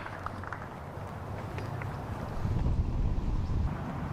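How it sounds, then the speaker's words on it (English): Steady wind buffets the microphone on an outdoor disc golf course tee during a professional tournament, a continuous rumbling rush that grows stronger partway through, close and fairly loud with no speech. "what kind of wind are they working with here on the tee of 13?"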